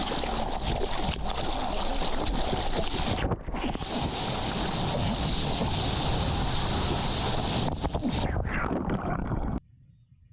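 Surf churns and rushes around a surfer riding an ocean wave, a dense roar of water and wind buffeting a GoPro on the board, cutting off abruptly near the end.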